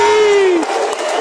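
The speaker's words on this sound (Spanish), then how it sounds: "toda la gente aplaudiendo" Crowd applauding and cheering at a frontón pelota match in Mexico, a loud burst of clapping and shouts right after a whistle-like tone fades, close and dense.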